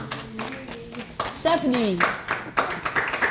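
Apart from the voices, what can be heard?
audience applause for quiz contestants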